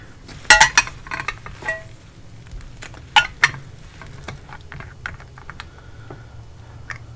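A glass bottle of fountain pen ink is shaken and swirled to mix it, giving off a string of sharp clinks and light taps, some loud and close, others soft, scattered irregularly over quiet background noise.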